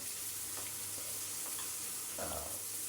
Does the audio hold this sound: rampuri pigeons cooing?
no